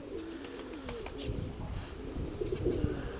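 Soft, low cooing of pigeons repeating in a gentle rhythm, with faint outdoor ambience and occasional rustling.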